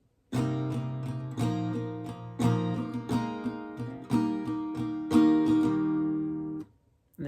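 Acoustic guitar strumming the intro of a song, moving through sus2 chord shapes with several bright, ringing strums spaced out over a few seconds, close and clear, ending with the last chord cut off.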